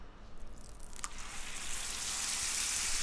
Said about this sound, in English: And we grill this baby. Let's go ahead and sear it